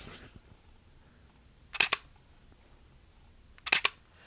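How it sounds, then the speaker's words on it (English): Canon M50 camera shutter held close to the microphone, firing twice about two seconds apart, each a crisp double click against quiet room tone. "I also don't like the shutter sound"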